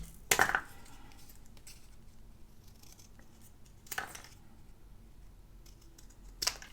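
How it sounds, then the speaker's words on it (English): Scissors snipping through perfume packaging, three separate sharp cuts spaced apart in an otherwise quiet room. "let's just cut this little thing out here from the packaging"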